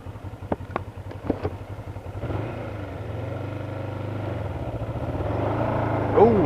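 A motorcycle engine pulls away from a stop in second gear, a few sharp clicks first, then a steady, laboring mid-pitched drone that builds slowly and stays close and fairly loud.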